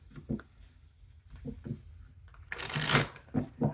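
Tarot cards handled at a table: soft shuffling and sliding, then a dense, close riffle of the deck followed by a few quick card flicks as a card is drawn, with no voices.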